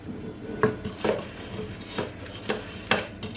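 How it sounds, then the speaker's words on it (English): Buttercream for a Victoria sponge cake being scooped into a piping bag from a cup, heard as a few soft, irregular scrapes and clinks of a utensil against the cup, close and quiet, with no talking. "I'm going to scoop it inside the piping bag"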